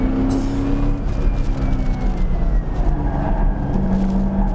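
A race car on a track runs hard with a loud, steady engine drone and shifting revs, heard from inside the car, with constant rumble and road noise throughout.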